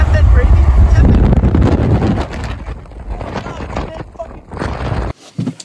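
Strong wind at the beach buffets the microphone in loud rumbling gusts that ease off partway through, with a brief cut near the end.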